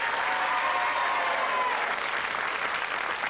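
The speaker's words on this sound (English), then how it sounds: "Give him a round of applause" Studio audience applause fills the room, a dense, steady wash of clapping held at an even level for a few seconds, with no voices over it.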